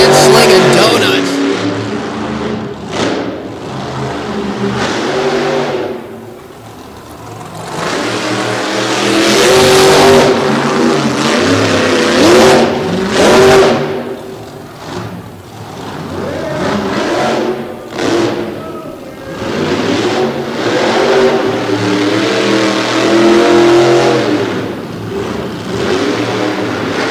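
A monster truck engine roars and revs hard through sand donuts at a Salisbury monster truck marathon, the loud rising and falling roar continuing for the whole stretch under a talking announcer and crowd noise.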